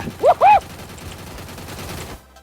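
An SKS rifle fires in the Free Fire video game: two sharp, loud shots in quick succession, followed by a low rumbling background that fades out.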